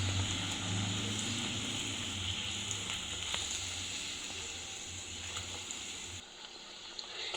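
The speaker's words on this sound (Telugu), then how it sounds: "పూరీలంతా సేమ్ ఇట్లా ఒత్తుకొని వేసేసి వేడి వేడి నూనెలో ఫ్రై" Aloo sabudana puris fry in hot oil, giving a steady, moderately loud sizzle and bubbling hiss that runs the whole time, with a low rumble beneath that drops away near the end.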